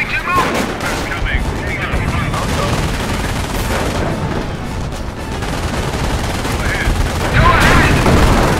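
Gunfire crackles through a battle in the Company of Heroes strategy game, with dense rapid shots and machine-gun bursts mixed with muffled explosions at a loud, constant level, and unit voices calling out over the fighting.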